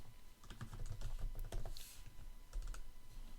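A new document name is typed on a computer keyboard as a quick, close run of soft key clicks that pauses briefly before a few final taps.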